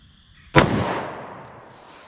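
A single sharp .38 Special gunshot cracks close by, followed by a long decaying echo that trails off over about a second and a half.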